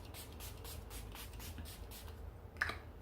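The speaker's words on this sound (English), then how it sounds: "So I spray my face." Setting spray misted onto a face during a makeup routine, heard as a series of soft, breathy hissing bursts close by, with one sharper spritz near the end.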